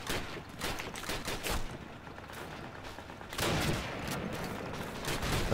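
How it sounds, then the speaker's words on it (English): Heavy gunfire in the WWII shooter Call of Duty: United Offensive: dense, rapid bursts of shots close by, with a thicker barrage in the second half. "Who the hell thinks they can fucking shoot at me?"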